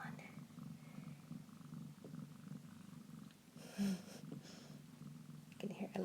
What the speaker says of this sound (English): You can hear Olivia just purrs all the time.